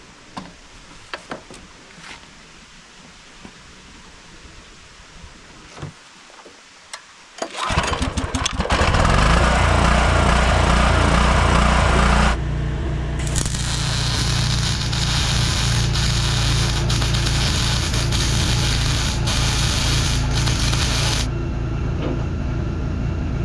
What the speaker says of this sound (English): that generator is just...